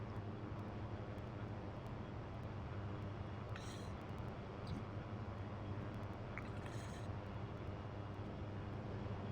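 A fixed-wing airplane rolling down a runway for takeoff in a flight video game: a steady, faint broadband engine drone holding level throughout, with a few thin high tonal flickers and no speech.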